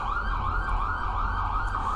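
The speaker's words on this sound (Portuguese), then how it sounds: "Deixa eu passar a sirene que eu vou explicar" An emergency siren plays steadily, a looping wail rising and falling over a low rumble, moderately loud and with no talking over it.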